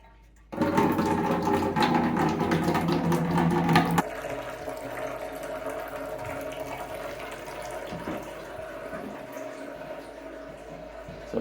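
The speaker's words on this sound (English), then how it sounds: "let's see if I can crack this open and bleed the water off" Water gushes from an opened tub and shower mixing valve into a bucket, a loud rushing splash that starts abruptly, then settles into a steadier, softer flow as the bucket fills.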